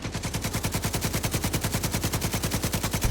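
Rapid automatic gunfire in a video game, a steady stream of closely spaced loud shots rattling on for the whole stretch without a break.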